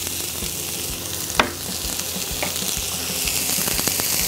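Onions and celery dropping into hot olive oil in a cast iron pan, a steady loud hiss and crackle with a sharp impact early on and scattered stirring sounds, no voices.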